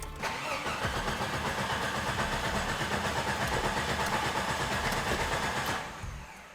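A Jeep engine cranks and catches, then runs at a steady, loud rumbling idle up close for several seconds before easing down slightly at the end, with no speech over it.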